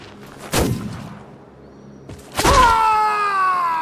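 Two heavy booming gunshots ring out in the video game Flintlock, spaced about two seconds apart; the second comes with a ringing, metallic whine that fades slowly, loud and with no talk.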